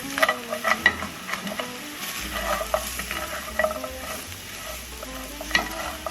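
Mushrooms frying in a pan, stirred and scraped: a soft steady sizzle under repeated scraping and clinking strokes of a utensil against the pan bottom, close and moderately loud.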